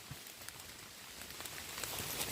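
Rain falls during mushroom foraging outdoors in Thailand, making a faint, steady patter of soft drops with scattered small taps that swell slightly toward the end.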